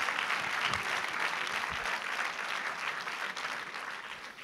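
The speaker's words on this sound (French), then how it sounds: "je pense qu'on peut vraiment le féliciter et déjà l'applaudir" An opening-ceremony audience at a film festival claps for filmmaker Laurent Wyss, a dense, steady round of applause that fades slightly toward the end, with no speech over it.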